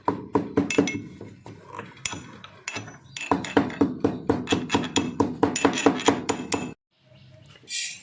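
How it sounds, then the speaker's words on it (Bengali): Cardamom seeds are pounded in rapid, regular knocks with a hard ringing edge, close and fairly loud, pausing briefly midway, then stopping abruptly. "আর দেখো দানাগুলোকে এবার আমি পিষাই করে নেবো।"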